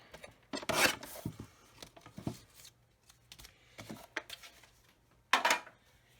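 Paper for a faux leather embossed mini album is trimmed to length in a few short, quiet scraping strokes up close, with pauses between them.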